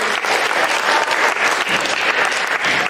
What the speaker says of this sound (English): Can we give a round of applause here?